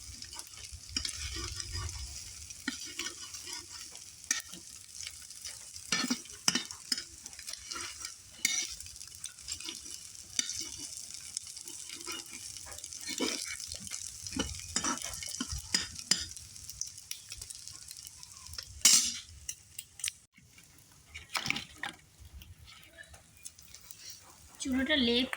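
Finely chopped potatoes fry in a pan on a cement stove, with a soft sizzle under repeated stirring and scraping taps, irregular and close.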